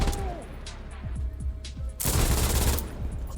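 A machine gun in the shooter game Insurgency Sandstorm fires a rapid string of sharp, booming shots with heavy low thumps, close and loud, ending in a dense burst.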